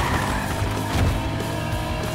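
Car engine at full throttle in the video game Battlefield Hardline, a steady loud motor roar with tire noise that fills the whole stretch without a break.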